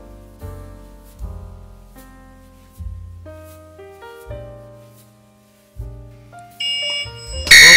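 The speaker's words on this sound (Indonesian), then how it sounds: "alarm kita sudah kesentuh guys" A price alert alarm from a TradingView trading platform plays a clear electronic melody of descending and rising tones with pauses, ending in a louder burst, with no talk.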